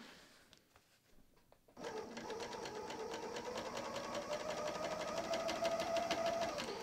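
A Bernina L 460 serger starts after a short pause, then sews and trims fabric with a fast, steady mechanical whirring hum that runs continuously, close and moderately loud.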